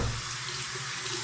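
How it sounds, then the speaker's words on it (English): A tap runs steadily as hands are rinsed under it at a sink, a brief continuous splashing wash of water heard close and alone. "I just rinsed off my hands"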